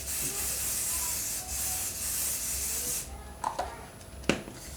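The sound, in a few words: spraying Cryolan Professional makeup setting spray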